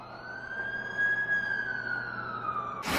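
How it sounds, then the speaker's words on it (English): Ambulance siren in The Amazing Spider-Man 2 video game, a single sustained wail rising and falling steadily at moderate distance, heard alone with a short burst of noise at the end. "That's the ambulance I called."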